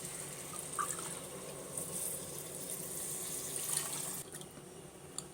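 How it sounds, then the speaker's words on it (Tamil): Soft steady trickle of water pouring into a pot of rice, a low continuous wash with faint splashes, quiet and close. "நாலு கப் தண்ணி அளந்து ஊற்றியாச்சுங்க"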